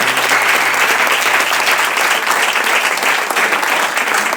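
Audience at a literary reading event in Santa Coloma de Farners bursting into loud, continuous applause, a thick, even clatter of many hands that holds steady without any talk.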